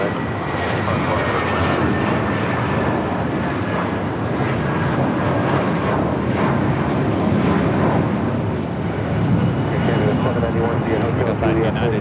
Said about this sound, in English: We got that United Dreamliner heading to Newark, now rolling down the 25 right